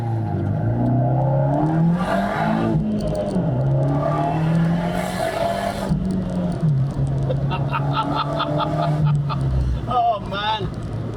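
A turbocharged Abarth 124 Spider engine hums and revs up and down from inside the cabin, its pitch rising and falling steadily under a continuous road drone, with short bursts of louder noise.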